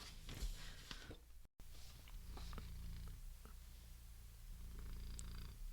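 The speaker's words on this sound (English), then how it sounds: "Can you hear him purring?" A cat purrs steadily and close by, a continuous low rumble with a brief dropout partway through.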